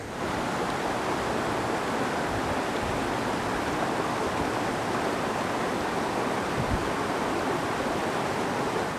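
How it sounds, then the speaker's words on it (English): A river flows through a valley in the Brecon Beacons with a loud, steady rushing roar that stays even and unbroken throughout. "We're just trying to find a nice, easy way to cross this river."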